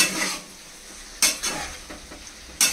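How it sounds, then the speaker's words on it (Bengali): Chicken being sautéed in a pan for chal magaj chicken, a soft steady sizzle broken by several sharp scrapes of a spatula stirring against the pan, close and alone. "এবার এটাকে কষতে হবে অনেকক্ষণ।"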